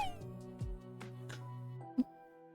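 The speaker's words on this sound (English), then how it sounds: "Oh, tragic Mr. Kitty Bill sounds" In an escape video game, a cat meows from another room: a few short, faint meows over a soft, sustained musical tone.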